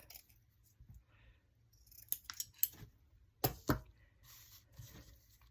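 Scissors snipping paper while trimming a handmade craft cover, a few sharp close cuts in quick pairs, the loudest near the middle, with quiet handling noise between.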